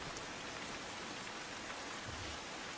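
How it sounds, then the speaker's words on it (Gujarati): Steady rain falls over the city of Surat, a constant wash of dense patter with no breaks, fairly faint and even throughout, with no voices. "સુરત શહેરમાં ક્યાંક છૂટો છવાયો તો ક્યાંક ધોધમાર રૂપે વરસાદ પડી રહ્યો છે"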